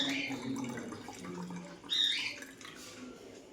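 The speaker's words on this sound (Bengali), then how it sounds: "বাটি দিয়ে ঢেলে নিচ্ছি আর কি" Hot water poured from a small bowl into a cooking pot at home, a soft splashing trickle that swells briefly midway, close by, with faint background chatter.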